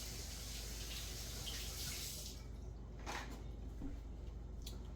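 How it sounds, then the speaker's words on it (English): Tap water running into a sink as hands are rinsed, a close, steady rush that thins out partway through, with faint splashes and drips. "Now, I'm gonna rinse my hands."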